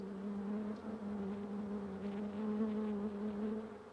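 Honey bees humming inside their hive, a steady, dense drone with a low buzzing tone that holds evenly throughout, fairly close and continuous with no voices.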